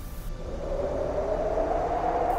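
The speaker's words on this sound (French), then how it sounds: "Et là, un vent fort." A recorded strong wind sound effect played during a theatre performance roars and howls steadily, a rising whistling tone over a low rumble, continuous and loud throughout.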